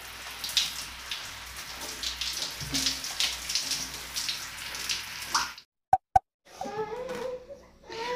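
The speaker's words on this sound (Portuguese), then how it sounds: "Agora vai pra baixo da água." Tap water runs steadily as a child's hair is rinsed during bath time, a spattering wash of droplets close by that cuts off abruptly, followed by a couple of sharp knocks and someone talking.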